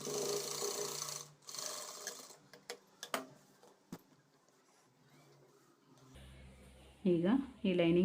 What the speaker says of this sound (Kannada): ಈಗ ಇಲ್ಲಿ ಸೀದ ಮೇಲೆ ಒಂದು ಸ್ಟಿಚ್ನ ಹಾಕ್ಕೋಬೇಕು